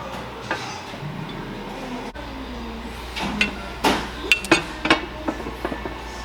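Sharp metallic hammer strikes drive a ball joint part into place on a Nissan 350z steering angle kit install, a few scattered blows then a quick run of ringing hits, close by in a shop.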